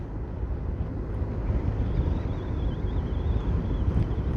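Heavy headwind of about 24 miles an hour buffets the microphone during a cross country bike race, making a loud, constant low rumble that stays steady throughout with no voices.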